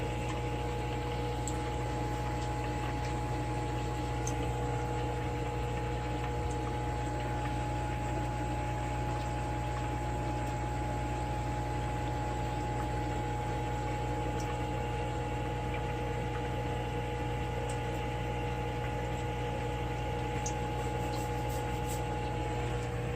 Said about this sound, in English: We'll wait here for a few minutes for the last inch or two of water to fill in.